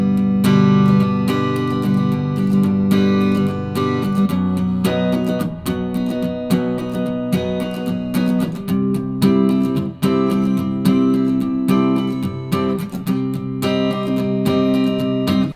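Strummed guitar chords moving through a 1, 3 major, 4, 4 minor progression in the Nashville number system, full and bright with rhythmic strokes, close and loud, with no talking over them.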